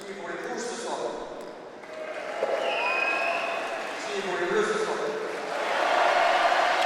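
Audience applause at a cesta punta Grand Slam final in Saint-Jean, a steady crowd clapping that swells toward the end, with a commentator talking over it.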